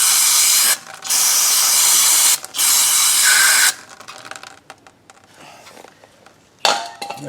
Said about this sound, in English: I'm gonna clean this off with a coarse chemical for 1001 uses